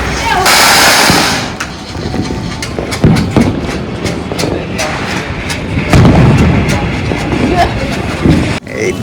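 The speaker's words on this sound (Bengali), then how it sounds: "সবাই এখন বাজি ফাটাচ্ছে এখানে" Diwali firecrackers bursting across rooftops, a dense crackle of repeated sharp bangs near and far, with a hissing burst at the start and voices talking over the din.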